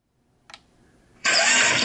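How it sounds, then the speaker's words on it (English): Gravastar Bluetooth speaker powering on: a soft blip, then a sudden loud, bright, rushing synthesized boot-up swell that holds steady to the end. "It has a pretty epic boot up and shutdown noise, just to add to the personality of them."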